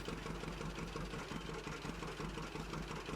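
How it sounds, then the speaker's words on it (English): Tractor engine pulling a seeder in a farming simulator, a steady low rumbling drone with a faint rhythmic knock, even and continuous throughout without any voices. "Tractor really shouldn't have any problems pulling this seeder."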